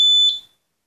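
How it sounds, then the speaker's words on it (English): A piezo buzzer on an Arduino Nano security system with an ultrasonic sensor sounds a single loud, steady high-pitched alarm tone that stops abruptly. "the buzzer sound will start automatically."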